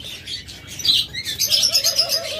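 Doves with eggs in a sale pen give soft cooing calls mixed with brighter chirps and tweets from other birds, close and fairly steady, with a brief flutter of wings.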